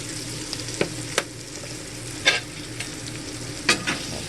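Chicken and vegetables stirred in a pan, with a low steady sizzle underneath and a few sharp scrapes and clinks of the utensil against the pan spaced out across the moment.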